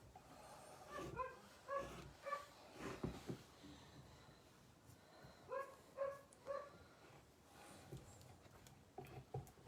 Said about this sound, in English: I have a very noisy dog outside